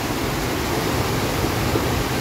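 Heavy floodwater rushes loud and steady through a canal after sudden heavy rain, a continuous broadband roar with no pauses and no voices.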